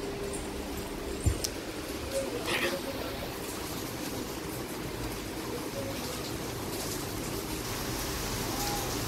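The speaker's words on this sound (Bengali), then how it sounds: "বাইরে এরকম বৃষ্টি হচ্ছে" Rain falls outside as a steady faint hiss, heard from indoors with a few small knocks and no voices over it.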